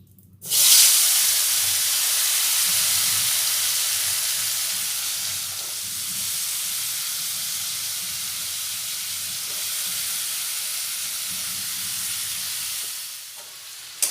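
Washed, cut potatoes hit hot oil in a pan for Bengali aloo posto, setting off a loud, sudden sizzle that stays as a steady, close frying hiss for the whole stretch, easing off near the end.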